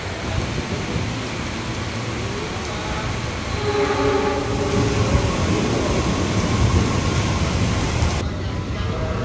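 Train at Cikarang railway station: a steady, loud broadband rumble with a faint tonal hum partway through, under a rain-like hiss, with no talking.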